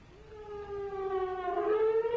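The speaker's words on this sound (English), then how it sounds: "At midday today, sirens wailed in the West Bank and Gaza" A civil defense siren wails across the West Bank and Gaza at midday, a steady rising tone that swells and climbs in pitch, sounding distant but strong with no talk over it.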